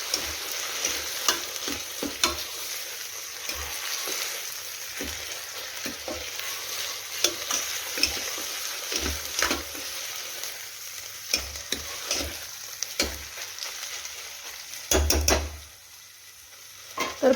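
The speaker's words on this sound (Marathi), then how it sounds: "तर आता यामध्ये आपल्याला टाकायचं आहे आलं लसूण कोथिंबीरची पेस्ट वाटून घेतलेलं वाटण आणि टोमॅटो. छान असं मिक्स करून घेऊया." Ginger, garlic and coriander paste with tomato being stirred into mutton masala: a steady frying sizzle with repeated scraping strokes of a spoon in the pot and a louder clatter near the end; no one speaks.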